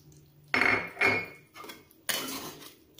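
Metal spoon clattering and scraping in a pan as green beans are stirred into tofu and egg, a few sharp clinks and bursts of scraping separated by brief quiet.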